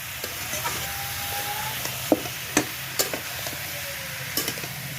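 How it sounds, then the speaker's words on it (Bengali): Bottle gourd and fish head sautéing in a pan: a steady, soft sizzle with several sharp clicks and scrapes from a utensil stirring against the pan, close by, with no voices. "এখানে লাউ দিয়ে মাছের মাথা কষাচ্ছি।"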